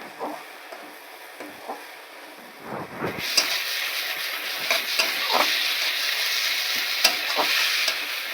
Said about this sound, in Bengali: ভাজা বড়িটা দিয়ে সুন্দর করে একটু ভাজবো